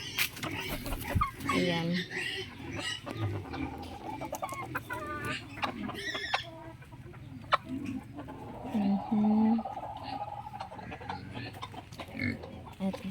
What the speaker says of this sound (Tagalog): At dito naman roaster chicken guys